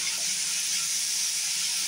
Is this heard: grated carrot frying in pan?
yes